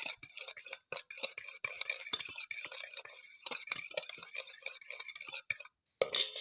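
Zucchini omelette batter is whisked in a bowl, a quick run of close, light clinking and tapping strokes with brief pauses, no voices.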